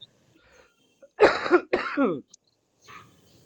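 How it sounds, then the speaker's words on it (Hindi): Two sharp, harsh coughs in quick succession, close by, followed by a softer breathy sound after a short pause. "हंसते हंसते खांसी हो गई"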